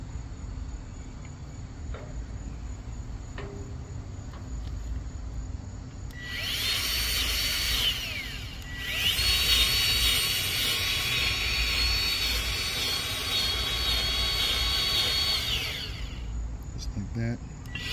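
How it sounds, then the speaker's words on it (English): A grease gun pumps grease into the spider wheel hub of a mobile home or lowboy car trailer, giving a hissing, squealing burst in the middle of the clip over steady outdoor ambience with insect chirring, close to the microphone. "I'm gonna pump some grease inside here too"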